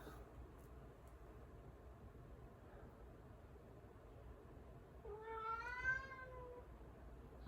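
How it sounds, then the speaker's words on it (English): A house cat gives a single drawn-out meow, moderately loud against a faint background hiss, after several seconds of near silence. "My cat says hi to somebody."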